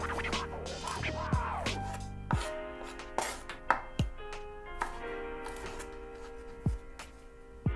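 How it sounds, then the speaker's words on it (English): Knife slicing garlic into medium slices on a cutting board, a series of close, irregular taps and cuts with some scraping in a quiet kitchen. "Now let's cut garlic into medium slices."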